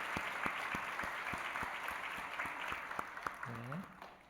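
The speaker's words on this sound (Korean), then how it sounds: "우리 박수로 한번 격려하겠습니다" A church congregation applauds during a Sunday worship service, a steady patter of many hands clapping at moderate distance, with a few sharper claps standing out and a brief voice breaking in near the end.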